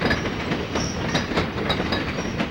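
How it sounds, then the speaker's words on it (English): An Air Products high-and-wide freight train moves a heat exchanger toward Port Newark, with a steady close rumble of railcars and a repeated clickety-clack of wheels over rail joints. "Here's an Air Products high and wide, moving the heat exchanger to Port Newark."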